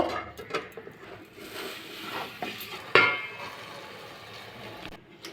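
Light scraping and clinks of a frying pan being handled and flipped onto a plate, with one sharp metallic clank midway over a faint sizzle of kohlrabi and egg cooking.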